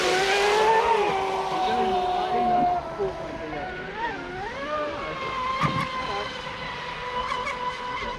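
A Pro Boat SonicWake 6s RC speedboat whines across open water, its high motor pitch rising and dipping as it turns, with people talking over it throughout.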